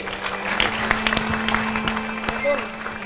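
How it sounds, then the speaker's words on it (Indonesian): Audience applause at a large open-air community gathering, moderately loud with sharp distinct claps over a steady background hum, and voices and murmuring mixed in. "Tepuk tangan untuk beliau."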